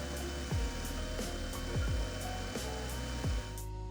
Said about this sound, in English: drilled a hole through both the metal chassis and the GPU I/O bracket